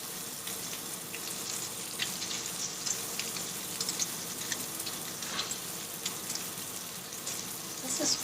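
Thick-cut fatty bacon sears in a pan, giving a steady, close, dense sizzle and crackle throughout with faint scattered pops and no talking.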